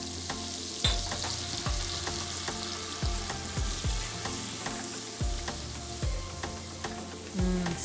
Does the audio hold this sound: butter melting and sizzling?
yes